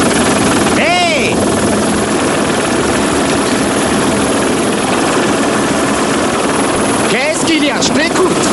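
A helicopter in flight fills the whole stretch with a loud, close, steady rotor and engine roar, while people talk over it.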